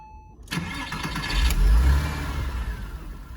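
A Porsche Boxster 986 engine cranks and catches, roaring up briefly before settling into a steady, low idle nearby.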